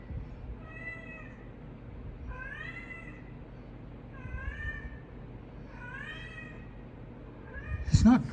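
A cat meows four or five times in drawn-out, wavering cries spaced a second or two apart, fairly close and clear over a low indoor background, with a sudden clatter at the end.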